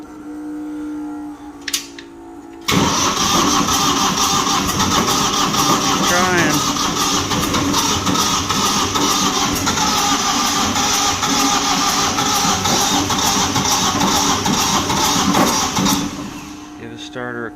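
A light tower generator engine being revived cranks over briefly and then catches, settling into a loud, steady, unbroken run that carries on close by for about fourteen seconds before easing off at the end.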